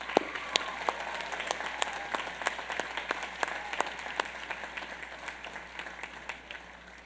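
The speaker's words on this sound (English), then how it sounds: "Please, a round of applause." Audience at the 2014 Union College commencement applauding retiring faculty, loose separate claps ringing out in a large, reverberant space and gradually thinning and fading over several seconds.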